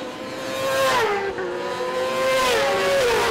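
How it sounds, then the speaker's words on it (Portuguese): Superbike racing motorcycles overtake on a track during a 2012 SuperBike Series Brasil race, their engines loud and close, revving and shifting pitch as they pass. "A moto 116 do Helder Chad faz a ultrapassagem na moto 47, que é a moto do Wesley Gutierrez."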